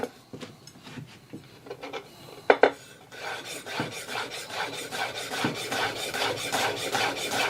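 Mincing on a board with an Imarku hammered-edge 8-inch chef knife: a few sharp knocks at first, then a steady, close run of quick rasping blade strikes and scrapes.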